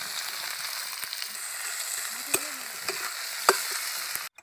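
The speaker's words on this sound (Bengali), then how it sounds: "এখন দিয়ে দিব পেঁয়াজ কুচি।" Chopped onions frying in hot mustard oil in a village kitchen wok, a steady close crackling sizzle with a few sharper pops and stirring clinks, cutting off at the end.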